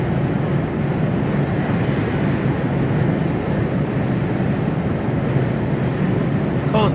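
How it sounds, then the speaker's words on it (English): A Chinook helicopter passes overhead in a steady, broad, droning rumble that holds at an even loudness throughout without clear blade chop, heard from a distance outdoors. "No, it's a Chinook."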